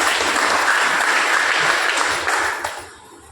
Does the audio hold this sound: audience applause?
yes